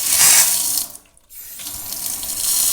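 Tap water runs steadily through a Philips tap-mounted water filter, a loud hissing stream that cuts out briefly and then resumes flowing.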